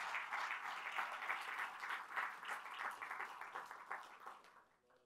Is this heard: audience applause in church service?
yes